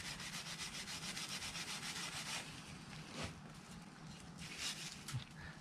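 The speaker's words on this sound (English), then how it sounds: "Scrub them really good. And you want to go with the grain of the wood while doing this." A brush scrubs old teak boat trim along the grain in a steady back-and-forth rhythm, close and coarse, then slows into quieter, irregular rubbing strokes.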